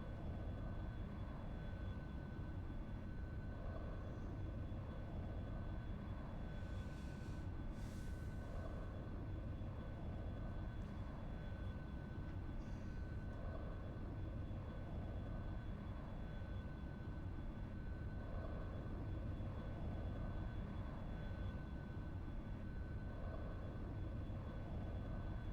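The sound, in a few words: airplane engine in flight, X-Plane flight simulator video game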